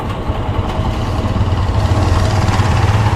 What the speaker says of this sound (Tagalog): Ganda ng motor niya.